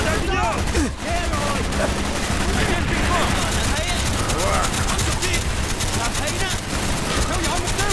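Dense rapid gunfire and bursts of automatic shooting crackle continuously and loudly in Call of Duty: Black Ops, in a Vietnam setting, with scattered voices shouting underneath.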